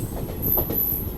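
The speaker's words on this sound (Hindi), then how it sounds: "ये अपनी ट्रेन पहुंच रही है फरा रेलवे स्टेशन" A Delhi–Prayagraj special train rolls into Phaphamau railway station, its wheels clattering in a low rhythmic rumble with a thin high squeal, close and steady.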